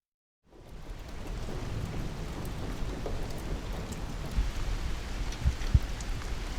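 Steady rain falls through an overnight downpour at Letchworth State Park in autumn, a dense continuous wash of drops with a few sharper knocks and taps close by, no voices.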